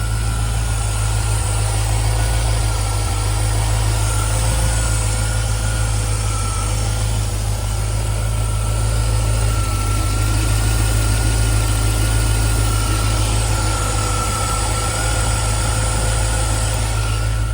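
A Rover 3.9 litre V8 engine in a 1994 MG RV8 roadster idles steadily with a deep, constant rumble and a faint high whine, loud and close, continuing unchanged with no voices.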